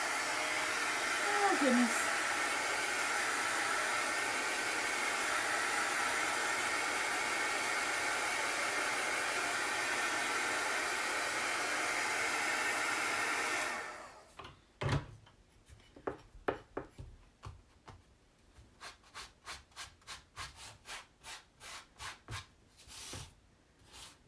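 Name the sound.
hair dryer drying chalk paste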